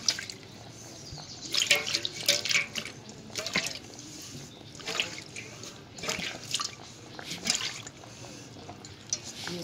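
Water splashes and sloshes in bursts inside a container being rinsed, with trickling and dripping between the louder swishes, close by.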